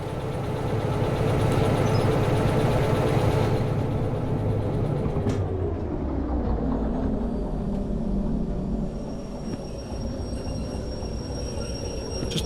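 A train running in the railway simulator game Derail Valley, a loud continuous rumble and engine drone that holds steady, then eases slightly later on, with one sharp click partway through and no talking.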